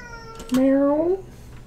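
A cat gives a single clear, drawn-out meow at close range, rising then falling, with faint background sound before and after.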